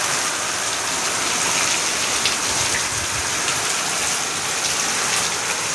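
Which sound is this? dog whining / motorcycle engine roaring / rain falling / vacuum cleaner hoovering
rain falling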